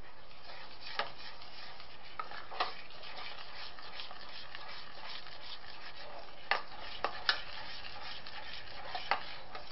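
A spoon works through melting cheese sauce for mac and cheese in a pot, giving soft scraping and stirring with a few sharper clicks against the pot, quiet and close.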